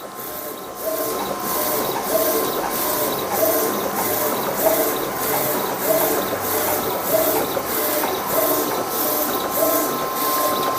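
A large-format DTF printer runs a print job, its carriage pass repeating in a steady rhythm about every second beneath a constant high whine and mechanical hiss, close and continuous.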